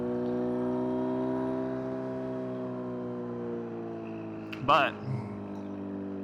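A 2025 Kawasaki Z900 SE with a tuned 2WDW exhaust system winds down from high revs in a smooth, falling engine tone, then lets out a sharp exhaust pop and crackle near the end, with a brief voice.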